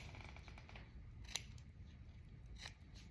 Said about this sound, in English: you can use your scissors and you can cut that right on off